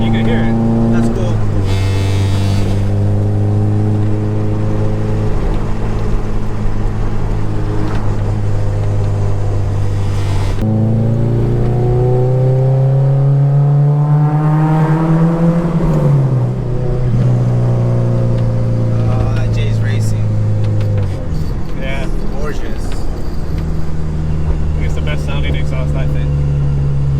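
A 2001 Honda S2000 engine revs loudly and close by, its pitch climbing and falling through several throttle sweeps, with one long rising pull before settling back.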